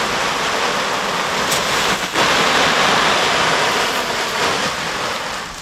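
A garden hose sprays water hard against a tent during a leak test, a loud continuous rushing hiss like heavy rain, with a short dip partway through.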